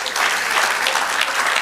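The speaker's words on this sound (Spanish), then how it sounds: "Dale aplauso al Señor." Applause from a church congregation at a Spanish-language sermon, a dense steady wash of many hands clapping without a break through the short stretch.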